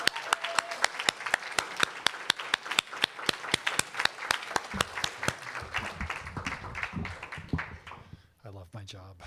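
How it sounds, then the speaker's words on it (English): Audience applause at a faculty presentation: sharp, evenly spaced claps ring out close and clear, then thin out toward the end as a voice starts speaking. "I think we need to give Chen Chen another big round of applause."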